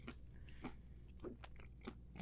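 Crunchy snack chips chewed close to the mic, a series of crisp crunches in an uneven rhythm over a faint low hum, with no talking.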